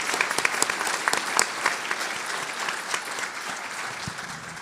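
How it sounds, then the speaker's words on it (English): Conference audience applauding a panel of three speakers, a dense, moderately loud patter of many hands clapping steadily and fading slightly toward the end. "if we could give a round of applause to 3 fabulous panelists"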